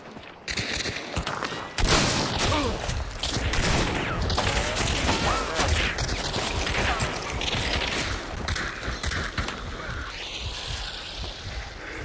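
Gunfire in a first-person shooter, bursts of shots rolling out over a dense wall of game noise with music and effects throughout; a short loud stretch near the start, then steady, busy clatter.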